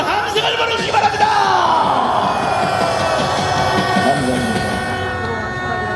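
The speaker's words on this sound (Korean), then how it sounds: "건강하시라고 따가운 함성을 보내주시기 바랍니다" A large outdoor crowd at a political rally against a presidential impeachment in Gwanghwamun, Seoul, cheers and shouts loudly throughout, a dense roar of many voices with rising whoops.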